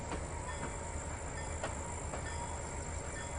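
A freight train on a local grain run in the Trainz 2019 simulator rolls slowly along the Tidewater line, a steady close rumble with faint rhythmic wheel clacks and no talking.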